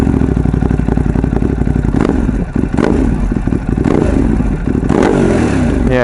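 Motorcycle fitted with an SP Engineering end can, its exhaust loud and close, rumbling and popping with a few blips of revving at a steady idle.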